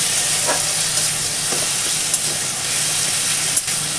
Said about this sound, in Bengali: এবার আমি ভালো করে খুন্তি দিয়ে ভালো করে নেড়ে চেড়ে নিচ্ছি।